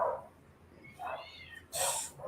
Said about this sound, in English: Here, the cat's out there. They be out there fighting all the time.